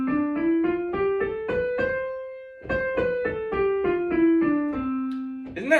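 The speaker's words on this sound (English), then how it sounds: "to play a major scale, you just play two tetrachords" A major scale played as two stacked tetrachords: evenly spaced single tones step upward in a steady rhythm, pause briefly, then step back down, clear and solo with no voices.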